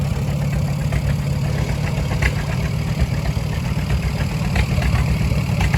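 A 1952 Allis-Chalmers G cultivator tractor's engine runs steadily at idle nearby, a loud, even low rumble with a regular knocking pulse and no talk over it.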